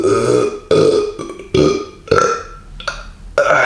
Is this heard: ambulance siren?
no